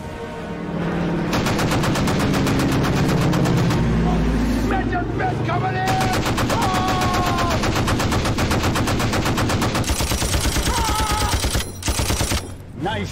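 Rapid ship's gunfire in a naval war film, a dense continuous barrage of loud automatic bursts over heavy engine and battle noise, with shouted voices briefly heard over the din.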